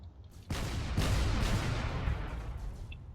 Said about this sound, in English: Now they're going to begin firing their weapons.